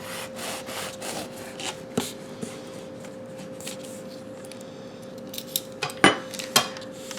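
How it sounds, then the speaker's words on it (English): A knife slicing through warm blueberry filled sweet biscuits, soft repeated sawing and rubbing strokes against a surface, with a few sharper clinks of a utensil near the end. "so they don't run everywhere when I slice them"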